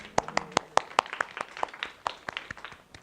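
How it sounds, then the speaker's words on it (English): A small audience at a university social-impact talk gives a sparse round of applause, a dozen or so distinct, fairly close hand claps in an uneven rhythm that thins out toward the end. "So let's just give them a round of applause."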